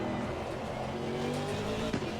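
GT3 race cars, a BMW and a Porsche, in the sim racing game Assetto Corsa Competizione, engines droning steadily at high revs with a rising harmonic whine and a brief tire squeal near the end.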